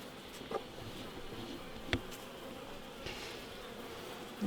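Honey bees buzzing around an opened beehive during a spring inspection of the frames, a steady soft hum with a few brief clicks and knocks.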